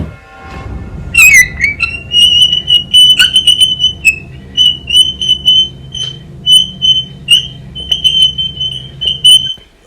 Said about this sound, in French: Ça grince, on dirait un grincement. Ça fait le bruit d'un oiseau, on dirait un rouge-gorge.